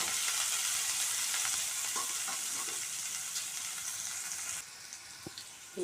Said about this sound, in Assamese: এয়া পিঁয়াজখিনি ভাজি লাগি গৈছে